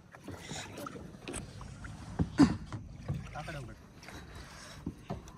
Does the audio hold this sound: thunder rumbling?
no